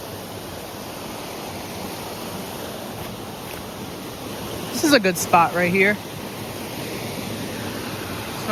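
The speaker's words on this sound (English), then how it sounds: "So it's kind of like a waterfall" Mahanoy Creek near Centralia, Pennsylvania, flows over a small waterfall with orange-stained rocks, giving a steady, close rushing wash of water. Someone speaks briefly over it.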